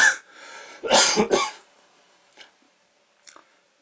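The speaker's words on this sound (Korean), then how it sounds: "말하면 성대가 떨리니까 기침이 납니다" A person with lingering after-effects of a cold coughs and clears their throat close up, a sharp opening cough followed by a rough double cough, then a few faint throat sounds trailing into quiet.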